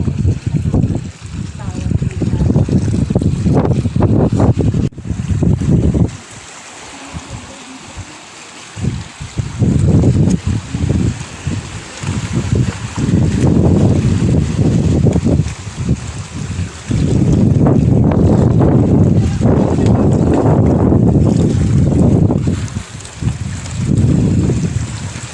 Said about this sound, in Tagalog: Grabe lakas ng alon. Nagagalit ang dagat